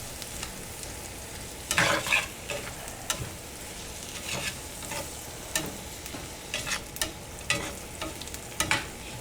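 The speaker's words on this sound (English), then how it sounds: "So we're just going to saute this." Vegetables for Southern cornbread dressing sauté in a pan, a continuous close sizzle with repeated scraping stirs at an irregular pace, no talking.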